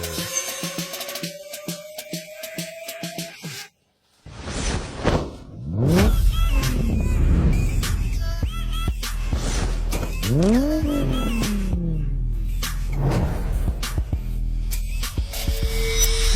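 A Lamborghini sports car's engine revs loudly and repeatedly, with rising and falling sweeps, a brief drop to near silence early on, then a sustained roar close by.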